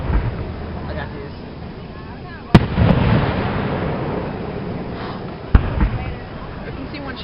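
Fireworks explode at a July Fourth display in Tri-City, Kentucky, two sharp loud booms a few seconds apart, each followed by a crackling rumble, with people chatting in the crowd throughout.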